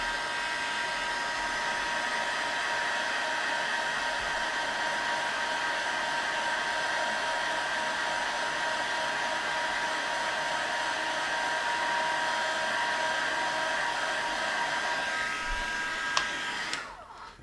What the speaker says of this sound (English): I've got a heat tool. I'll just heat set this just so it's a bit easier to cut out.